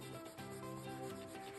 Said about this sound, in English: Sand the entire surface.